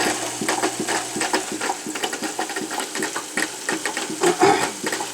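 Water flows and churns inside a Drinkwell Big-Dog pet fountain, a steady close gurgle and splash under a faint pump hum, continuous throughout.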